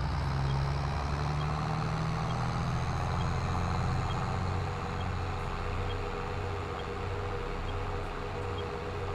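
Tractor engine in Farming Simulator 22 running at steady high revs, a continuous loud droning rumble with no talk over it.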